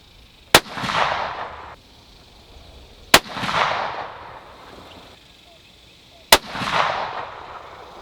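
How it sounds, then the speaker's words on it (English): Three rifle shots fired through an EC Tuner muzzle brake during group testing at a range, each a sharp loud crack followed by a rolling echo, spaced about three seconds apart. "we are shooting our 10th group, our 10th final group, number 9 on the muzzle brake"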